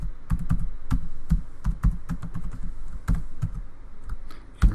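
Password being typed on a computer keyboard, a quick uneven series of crisp key taps close to the microphone, about a dozen strokes with brief pauses, no talking.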